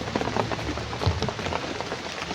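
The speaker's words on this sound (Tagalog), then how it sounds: "Malakas na ulan po." Steady heavy rain pattering across a surface, a dense continuous wash of drops with no voices.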